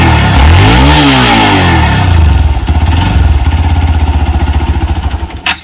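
Hero Xpulse 200 4V motorcycle revving in neutral: loud, close exhaust with rising and falling revs, then a choppy, throbbing idle that fades slightly at the end.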